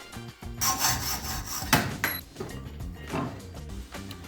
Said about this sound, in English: I don't have a good way of cutting aluminum, so gotta do it by hand.